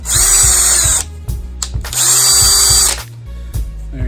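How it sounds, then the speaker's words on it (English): A power drill spins a drill brush attachment meant for scrubbing wheels, whining loudly in two long bursts of about a second each with short pauses and clicks between them, close and with no voices. "Same thing, attach it to your drill."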